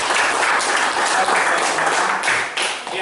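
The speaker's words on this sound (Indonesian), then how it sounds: "Berikan tepuk tangan kita." A school classroom in Indonesia erupts in loud, continuous applause from the students, a thick wash of clapping hands that stays strong throughout, with a brief spoken word near the start.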